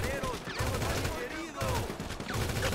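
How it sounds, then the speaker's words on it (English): Gunfire in the video game GTA 5 crackles in rapid bursts of close, dense automatic shots, repeating in waves with brief lulls, alongside other game sounds. "let me just reload and fire"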